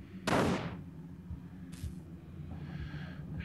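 A single loud gunshot cracks out in a horror video game as a doll is shot, followed by a fainter second shot and a low eerie background hum.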